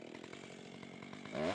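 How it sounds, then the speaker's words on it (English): A chainsaw cuts trees in a forest beside a stream, its engine buzzing faintly and at a distance with a rhythmic pulse before swelling louder at the end. "During the early years of the program, chainsaws were used to drop trees into place."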